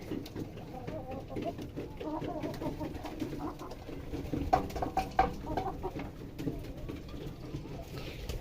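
Pigeons, chicks and ducks in a backyard cage eating scattered grain, with soft cooing and clucking, light pecking and scuffling, and faint background voices throughout.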